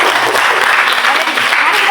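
Eighth-grade class in a lesson on report texts applauding together, a dense, loud burst of clapping that fills the short moment at close range, with voices mixed in.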